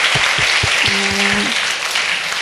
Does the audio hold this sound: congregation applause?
yes